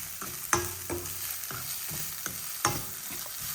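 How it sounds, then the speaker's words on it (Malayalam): Onions, green chillies and curry leaves being stirred in a frying pan, a ladle scraping and knocking in several distinct strokes over a steady close sizzle. "എന്നിട്ട് നന്നായിട്ട് ഇളക്കി കൊടുക്കാം"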